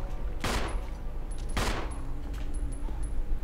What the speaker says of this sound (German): Ich glaube, ich habe gerade alle meine Munition verballert.